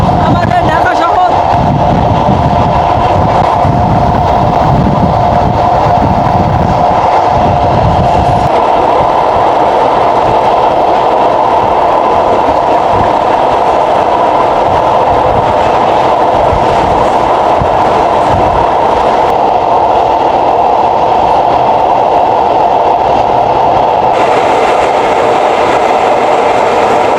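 The Abhijatri commuter train running from Dhaka to Gopalganj gives a steady, close rumble with rhythmic clickety-clack of wagons on the rails, continuous throughout with no letup.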